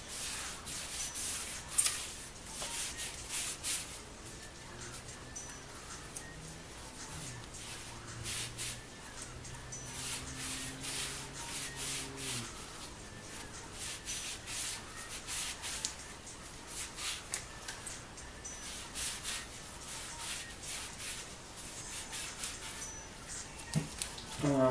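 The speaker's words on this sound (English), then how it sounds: "I'm just cleaning up all the shiny metal surfaces." An engine's intake cam and other shiny metal parts are cleaned with brake or parts cleaner, giving soft, intermittent rubbing and spraying hisses, close and fairly quiet, with occasional talk.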